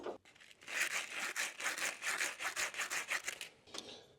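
Rapid rubbing strokes cleaning a steering column bushing, a close, dry scratchy back-and-forth rhythm lasting a few seconds.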